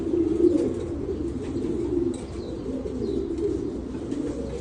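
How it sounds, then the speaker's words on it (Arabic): Stencil pigeons coo in a low, continuous murmur, several birds close by in a loft, with faint chirps and a brief rustle of wings, no voices. "حمام يا جماعة استنسل"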